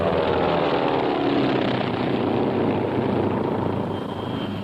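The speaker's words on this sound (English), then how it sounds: "The Mosquito, a British 2-engine plane," A twin-engine wartime British de Havilland Mosquito, a wooden plane, drones loudly overhead with a steady engine roar that slowly shifts in pitch as it passes.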